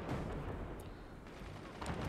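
Artillery shells fired in a video game, a dense, continuous rumble of distant booming shots and impacts that stays loud and fairly steady throughout, with a couple of brighter cracks standing out.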